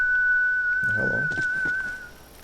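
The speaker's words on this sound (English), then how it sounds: "Someone was whistling." A single sustained whistled note from a character in the video game Borderlands 3, steady and clear for about two seconds, with a brief murmur of voice partway through.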